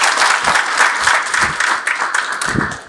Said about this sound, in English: if you can give him a round of applause.